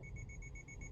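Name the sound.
Subaru EyeSight pre-collision continuous warning beeping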